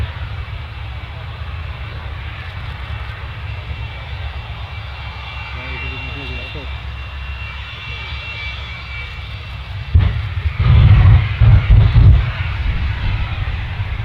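A 300 mph jet car at the Abbotsford Airshow 2015, stopped by two ring slot parachutes. A continuous roar builds to a heavy, thumping burst partway through, with an announcer speaking over it.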